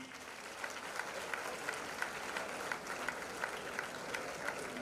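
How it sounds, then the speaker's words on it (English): An audience applauds at an induction ceremony, with dense, sustained clapping and a few sharper individual claps standing out, steady and fairly loud throughout. "A round of applause,"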